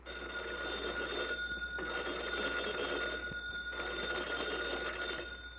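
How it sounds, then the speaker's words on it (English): An old telephone bell rings in a firehouse in long bursts with brief pauses between them, steady and fairly faint, with no voices. "the phone bell rang."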